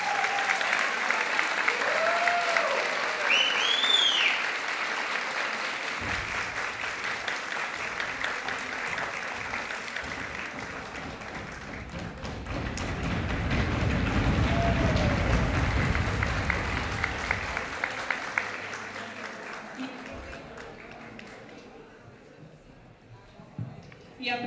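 An audience at a Ukrainian folklore evening gives a long round of applause for the Barvinok performers, swelling and fading over about twenty seconds, with a voice speaking and a few whoops mixed in.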